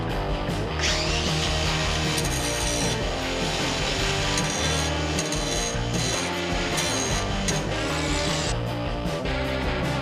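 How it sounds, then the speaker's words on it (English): Power grinder sharpening the teeth of metal cage bike pedals, giving a loud, continuous, harsh grinding roar that holds steady throughout. "Let's grind."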